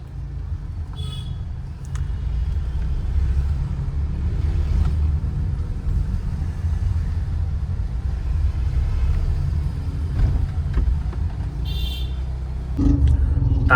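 Slow-moving road traffic in Burhanpur, Madhya Pradesh, gives a steady low engine rumble throughout, with a few faint horn toots rising from the continuous hum.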